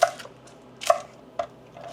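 A knife chops green onions into 2-inch pieces on a cutting board, giving three crisp, separate chopping knocks at an uneven pace, close and moderately loud.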